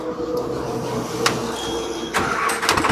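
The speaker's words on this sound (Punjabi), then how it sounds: "ਟਰੈਕਟਰ ਦੀ ਸਟਾਰਟਿੰਗ ਬੜੀ ਤਾਕੜੀ ਹੈ" A large tractor engine idles with a steady low rumble, punctuated by a couple of sharp mechanical clicks and a brief surge as it catches.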